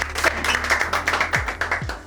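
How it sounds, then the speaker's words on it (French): An audience at a French mentalism show claps in a quick, fairly close burst of applause that lasts the whole moment, with a low musical tone sliding underneath. "Vous pouvez l'applaudir s'il vous plaît."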